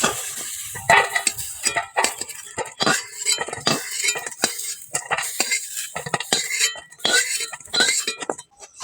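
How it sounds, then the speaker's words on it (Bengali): Pointed gourd lifted out of a frying wok, with repeated close metal utensil clinks and scrapes against the pan over a light sizzle of oil, no talking. "এবার পটলটা কড়া থেকে তুলে নেব।"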